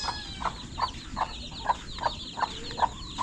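A hen clucking near newly hatched chicks, about eight evenly spaced short clucks close by over a faint background, with no speech.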